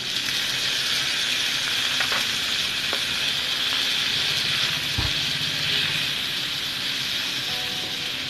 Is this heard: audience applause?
no